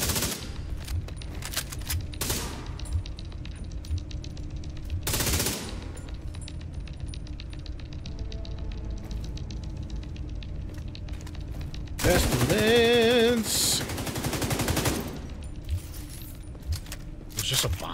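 Minigun fire in a looter shooter video game, several loud rapid bursts of gunfire with sharp clattering shots among quieter in-game rattles and a longer sustained burst toward the end, with a player talking over it.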